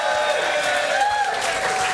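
A live studio audience at a rugby show cheers and applauds loudly and steadily, a dense wash of clapping and crowd noise with no break.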